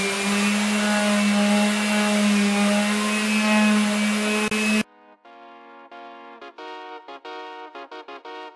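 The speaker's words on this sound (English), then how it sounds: "you want to work with the grain of the wood when you are sanding" A power sander works over a wooden table being restored, giving a loud, steady motor whine with a low hum for about five seconds before it cuts off, followed by a series of short tonal notes.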